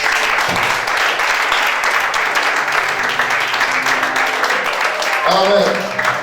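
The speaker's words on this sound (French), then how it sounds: "Acclame-toi, toi-même." Church congregation applauding at a sermon, a steady, loud wash of clapping sustained throughout, with voices and a brief musical tone rising near the end.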